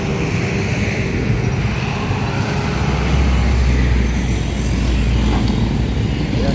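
Steady highway traffic rumbles nearby, engines droning continuously with a low hum and occasional passing vehicle noise, no voices.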